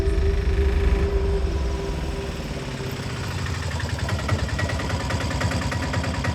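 A vehicle engine rumbles steadily nearby as it arrives, a low, throbbing idle-like drone with a loud start that settles to an even, vibrating hum.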